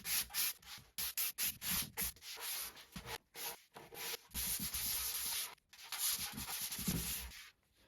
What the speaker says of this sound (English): Got a little 320 clean soft pad here, sander. I'm just going to very gently just get any roughness of the grain out.